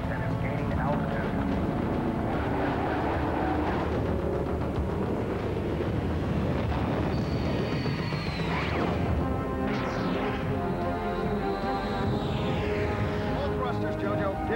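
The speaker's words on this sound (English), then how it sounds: "The suspect runabout has cleared the launch tube and is gaining altitude" A spaceship runabout launching at maximum thrust, a loud continuous engine roar with rumbling layers and rising whines overhead, while voices talk over it.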